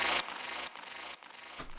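Bass sample processed with OTT compression, EQ and ping-pong delay, a dense sustained tone that steps through several sections bouncing left and right, alone without talk.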